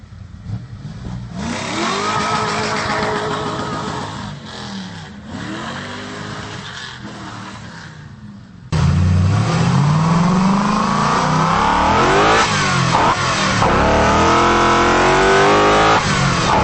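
Toyota UZ-series V8, the engine first fitted to the Lexus LS400 and Toyota Celsior, revving hard in a car, with repeated rising and falling sweeps that grow louder and more aggressive partway through.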